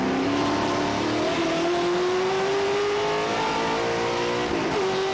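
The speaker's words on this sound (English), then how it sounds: "I just love the sound of them CASCAR motors at speed" A CASCAR Super Series race car at the 2006 Grand Prix de Trois-Rivières street circuit, heard onboard at speed: a loud, continuous engine roar climbing steadily in pitch through the gears, with a brief shift near the end.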